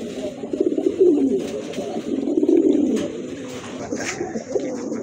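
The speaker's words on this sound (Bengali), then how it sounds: "এই যে দেখেন কবুতর, একদম ফুল ফ্রেশ কবুতর মাশাআল্লাহ।" Pigeons offered for sale, including fancy breeds, coo steadily and close by, a dense layered murmur of soft throaty calls running throughout with faint high chirps now and then.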